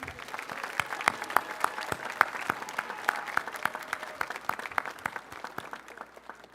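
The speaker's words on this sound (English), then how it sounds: "Please join me in a round of applause for these fine young women and men." An audience at a high school honors assembly applauds steadily, with individual sharp claps standing out clearly over a moderate wash of clapping for several seconds.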